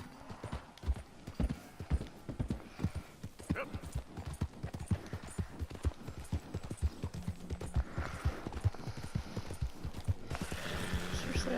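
Horse hooves in Red Dead Redemption 2 clip-clop in a rapid, steady galloping rhythm throughout, close and continuous, with faint talk mixed underneath.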